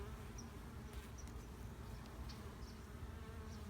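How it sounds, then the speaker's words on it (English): Agitated honey bees buzzing close by at an open brood nest, a dense, steady drone of many wings with occasional louder passes of individual bees near the listener, no talking. "I definitely have some ticked off bees by me."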